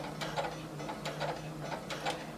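Close sewing machine running a back stitch on a half circle skirt seam: a steady mechanical whir with a rhythmic clatter of needle strokes in bursts, no talk.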